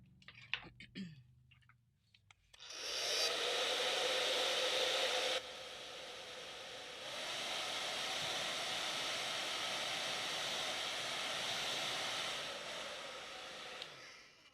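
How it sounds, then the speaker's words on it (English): A hair dryer blows on paint, switching on after a few seconds of soft clicks and handling noise, then a loud, steady whooshing roar that shifts level slightly partway through before cutting off near the end. "I'm going to do a quick blow dry."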